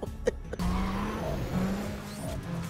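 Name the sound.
Golf VII Clubsport launching in Need for Speed: World video game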